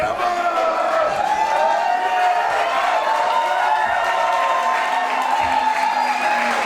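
A wrestling crowd at a GWF Light Heavyweight World Cup show cheers and shouts in a dense, sustained roar, with a commentator talking over the noise.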